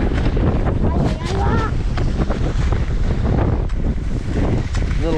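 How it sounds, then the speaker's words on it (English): Strong wind roars and buffets a microphone at the top of Upper Devil's Draw, a ski ridge near Chair 4 at Kirkwood, loud and constant, with faint voices in the gusts. "There's a lot of wind at the top of this ridge."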